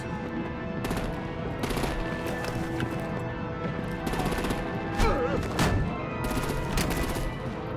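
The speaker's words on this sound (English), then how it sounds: "Break out the artillery and disable their vehicles!" Artillery and gunfire from a battle scene in the Batman: The Enemy Within video game, heard as bursts of rapid cracking shots and thuds spread through the clip over a busy, moderately quiet background.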